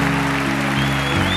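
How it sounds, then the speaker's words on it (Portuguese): Congregation applauding during a Baptist church service at Lagoinha, loud continuous clapping under a sustained organ or keyboard chord, with no speech. "Pode aplaudi-lo mesmo."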